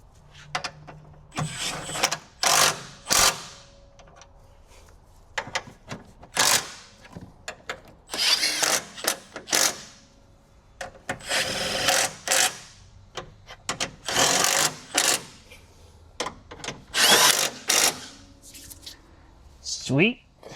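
A power tool fastens parts back down on a Tesla Model 3 during coolant valve replacement, firing in repeated short whirring bursts separated by pauses, close and loud.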